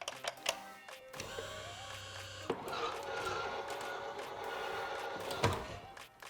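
A Minn Kota Ulterra trolling motor stows itself after a button press, giving a steady mechanical whir and grinding hum that runs for several seconds, preceded by a few clicks and ending with a thunk.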